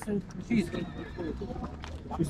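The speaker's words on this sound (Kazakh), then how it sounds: "Жылқы өзі қайдан?" A young horse of English and Kyrgyz parentage neighs and whinnies close by in short, loud calls, with hoof clops and people talking around it.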